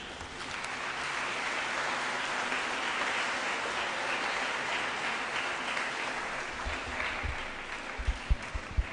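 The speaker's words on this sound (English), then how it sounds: "Let's give him a round of applause again." A crowd at a school's 25th anniversary launch event applauds steadily with dense, even clapping that holds throughout, a few louder claps standing out near the end.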